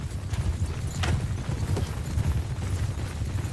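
Cavalry horses gallop in a Mount & Blade battle, a dense rumbling of many hooves with low booming thuds, steady and loud throughout with no talking.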